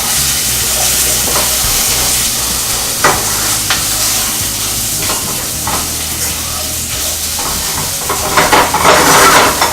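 Potatoes sizzle in a skillet with a steady crackling fry, punctuated by occasional stirring scrapes and clinks that grow busier toward the end.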